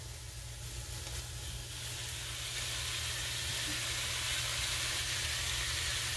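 Ground beef frying in a pan with onions, a soft continuous sizzle that swells gently and holds steady over a low hum, with no voices.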